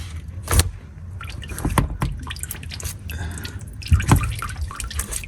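Motor oil draining from the oil pan of an Acura MDX during an oil change, a steady trickling pour with a few sharper drips and knocks, close by and without talking.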